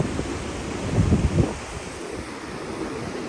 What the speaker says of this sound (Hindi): ये पत्थरों से टकरा के पानी ऊपर उठ रहा है